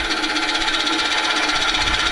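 A gouge cuts wood spinning on a lathe, giving a steady, dense scraping whir with a fast rhythmic pulse from the turning piece, close and continuous.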